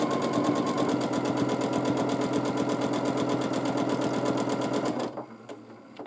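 A sewing machine stitches a quilt with dark thread, a steady fast mechanical chatter running evenly for about five seconds before it stops abruptly, leaving quiet room tone.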